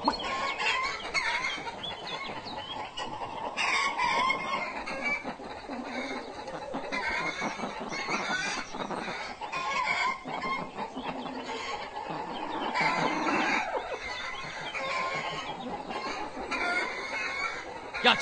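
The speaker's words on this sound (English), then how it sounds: "Get those free chickens, too." Chickens cluck and squawk in a busy, continuous chorus in a video game, with a rooster crowing now and then amid overlapping calls and faint background noise.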